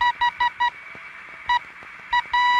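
Morse code CW signal received on a ham radio set, a steady tone keyed on and off in short dots and longer dashes with gaps between characters, clear and fairly loud over faint receiver hiss.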